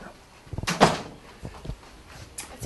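An indoor door is pulled open to let someone in, giving a couple of soft clunks and a brief rattle near the start and one more knock at the end, fairly quiet with no talking.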